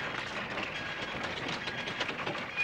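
Steady rumble and clatter of a moving passenger train, heard from inside a carriage in a 1959 film scene near New York City; the noise runs continuously and fairly loud, with no speech over it.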